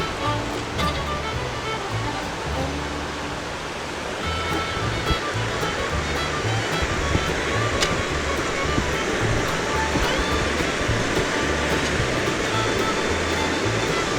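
Morgan Falls, a waterfall tumbling down a rugged rocky gorge, gives a steady, loud broadband rush of falling water that holds constant and close throughout.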